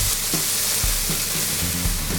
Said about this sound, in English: Mix it in there with the onions and garlic.